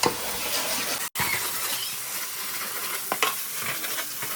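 Ginger garlic paste and masala sizzle steadily in hot oil for goat head curry, with a brief pause partway through and the scrape of stirring against the pan near the end.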